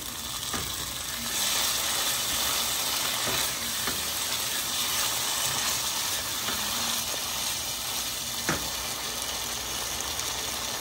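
Potatoes and duck eggs sauté together in spiced oil, giving a steady, close sizzle with scattered scraping and stirring clicks throughout.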